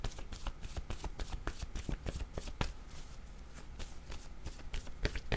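A tarot deck shuffled by hand, one card then drawn, giving close, continuous papery riffles and sharp flicks throughout with no talking.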